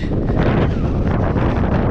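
Heavy wind buffets the microphone in a continuous low roar, loud and rumbling throughout with no voices heard.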